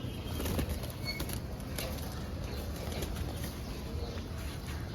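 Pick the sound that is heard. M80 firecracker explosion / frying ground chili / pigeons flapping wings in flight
pigeons flapping wings in flight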